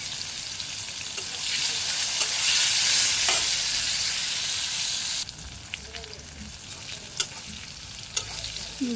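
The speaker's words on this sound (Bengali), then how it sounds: "হলুদ আর লবণ দিয়ে মাখিয়ে ভাজি করলাম, হয়ে গেছে প্রায়।" Vegetables coated in turmeric and salt fry in a pan with a loud, steady sizzle that drops to a quieter crackle midway, broken by a few sharp clicks of stirring.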